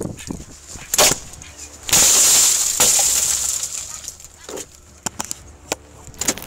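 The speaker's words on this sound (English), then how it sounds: "he wasted no time, seeking permission before smashing the window and rescuing the distressed pup" A police officer smashes a car window at a mall to free a dog trapped inside the hot car. The break is a sudden loud, bright shattering crash that rings on briefly, with scattered knocks and movement around it.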